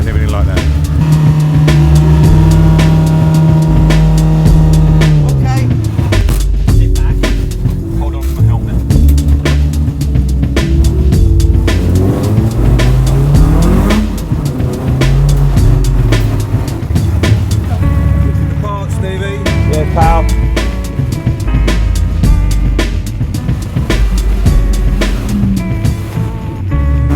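Race car engines idle and rev nearby in the Donington Park paddock as cars line up for qualifying, with overlapping motor tones rising and falling, a person talking over the constant mechanical noise.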